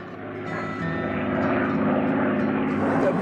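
A restored World War II fighter's Rolls-Royce Merlin piston engine drones steadily, a loud propeller roar that swells slightly as the aircraft approaches and holds strong.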